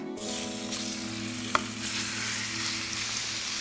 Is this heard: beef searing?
yes